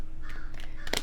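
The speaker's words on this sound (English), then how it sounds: "My crows are outside." Crows caw outdoors, a couple of short, harsh calls heard at a moderate distance over steady background noise.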